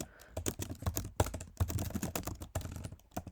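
Rapid clattering keystrokes on a computer keyboard while entering C++ code, a fast continuous burst of close, fairly loud typing with brief pauses between runs of keys.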